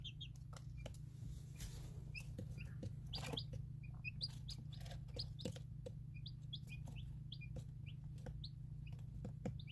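Soft high peeping of chicks, scattered short chirps over a low steady hum, fairly faint, with no voices.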